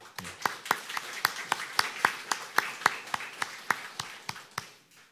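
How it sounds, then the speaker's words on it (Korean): A church congregation claps together in a steady, evenly spaced rhythm, about twenty crisp claps over five seconds, fairly quiet and fading at the end. "박수 한번 드립시다"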